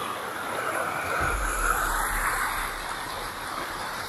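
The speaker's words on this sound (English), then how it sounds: "River." A knee-deep river behind a forest in Sarek's remote northern wilderness, flowing as a steady broadband wash of water, fairly near and constant, with a low rumble swelling briefly in the middle.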